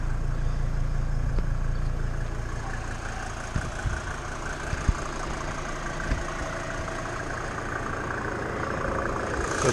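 A Mercedes G-Class 290 with a 2.9-liter five-cylinder turbo diesel and mechanical injection pump idles with the hood open, a steady low rumble and clatter running throughout, with a few faint knocks.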